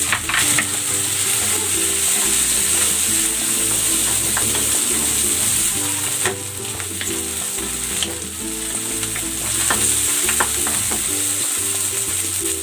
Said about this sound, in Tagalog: Igigisa ko na rin tong kamatis.